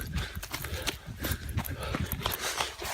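A horse's hooves clip-clop steadily on a forest trail in the New Jersey Pine Barrens, with a repeated thudding walking rhythm that is fairly loud and close, under outdoor background noise.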